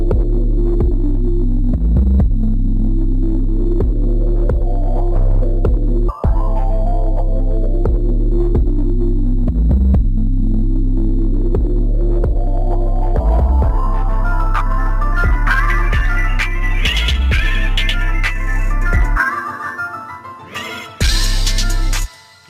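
Synth organ roll shaped by an automated low-pass filter in a beat: a steady pulsing low organ pattern repeats loudly, then the filter gradually opens into a brighter sweep before cutting back down near the end.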